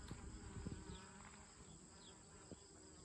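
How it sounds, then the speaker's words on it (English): A low, steady buzz of bees on black adder hyssop flowers drones throughout, with a few brief louder hums drifting past close by; no voices. "There's a freaking million bees on that thing."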